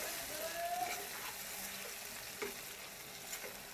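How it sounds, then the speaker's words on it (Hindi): Pathani chicken cooks with chilies and a little added water in a pot over a low gas flame, giving a soft, steady sizzle and bubbling with a few faint stirring clinks, quiet and continuous. "गैस का फ्लेम बिल्कुल स्लो कर देंगे। स्लो फ्लेम पे इसे मिर्चों के साथ में पका लेंगे।"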